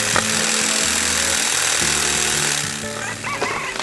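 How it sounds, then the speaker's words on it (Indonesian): A cartoon saw rips rapidly through a huge tree, a loud continuous buzzing roar with a juddering, jackhammer-like pulse that holds steady, then eases slightly near the end. "Gergaji itu sedang bergerak dengan cepat."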